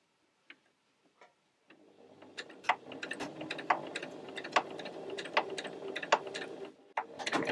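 A sewing machine stitches fabric after a few soft clicks, then runs in a quick, uneven ticking rhythm of close, clattering needle strokes, pausing briefly before starting again.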